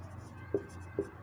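Chalk or pen strokes from a maths teacher writing numbers on a board, three short sharp taps spaced unevenly over a quiet hum of the room, close and fairly faint.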